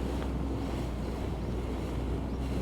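Tour boat heading out from a small feeder river onto Tonle Sap Lake near Siem Reap, Cambodia: a steady, unbroken rumble of engine and water, with wind buffeting the microphone throughout and no voices.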